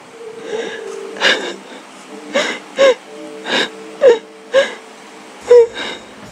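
A voice imitates a woman crying in a ghost story told in a university hostel room, with repeated wailing, sobbing moans in short bursts, fairly loud and close.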